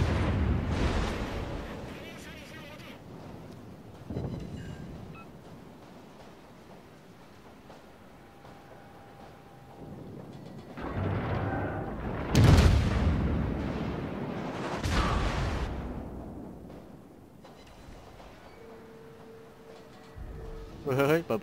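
Warship guns firing in World of Warships, with the Buffalo cruiser in play: several heavy booming salvos spaced across the stretch, one especially loud near the middle, with rumbling between shots and a player talking.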